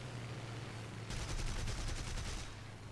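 Aircraft cannons fire in War Thunder, a long rapid burst of shots running for about a second and a half over a steady engine drone, loud and close, then cutting off while the engine hum carries on.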